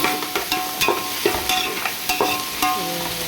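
Ginger and garlic sautéing in a pan, a loud close sizzle with repeated sharp spatula scrapes and taps against the pan every half second or so.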